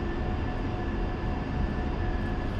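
An A-10C jet's engines during taxi in the DCS flight simulator, a constant loud roaring whine with a steady hum under it and a thin high tone, no talk.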